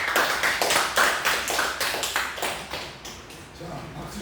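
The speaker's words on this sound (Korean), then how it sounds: "우리 박수 한번 쳐." Audience clapping at a pastors' retreat, a group of hands clapping in a quick steady rhythm that gradually thins and fades, with a voice coming in near the end.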